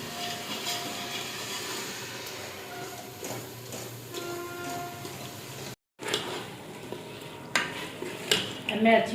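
Meat (gosht) stirred and fried in a pot for a potato curry, with a steady sizzle and scraping stirring strokes close by, a brief break midway, then louder clattering stirs.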